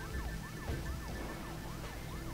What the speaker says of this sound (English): Sirens engage!